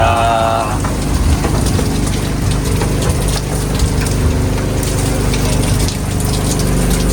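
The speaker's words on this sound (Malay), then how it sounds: "Sekali hujan pula." Heavy, constant rain hisses and patters close by during a storm while squid jigging at sea, a dense unbroken wash of noise with a low rumble underneath.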